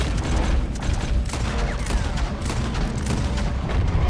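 Rapid gunfire in the video game Red Dead Redemption 2, a dense chaotic volley of shots and booms that continues without pause throughout, loud and overlapping in a busy mix.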